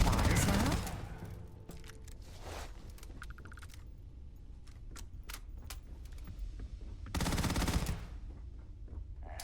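Gunfire in the video game Starfield: several bursts and sharp cracks, loudest at the very start and again near the end. The shots are fairly close and separated by quieter stretches of game ambience.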